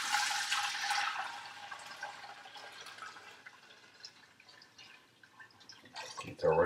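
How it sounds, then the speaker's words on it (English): Strained chicken stock is poured from a container back into a pan. A loud, splashing pour comes first, then it tapers into thinner trickling and dripping, with a brief clatter at the very end. "Now, I take the liquid to add the first draining, pour back into the pan"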